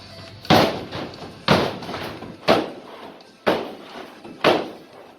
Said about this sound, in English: when you're landing, hit the ropes in the ground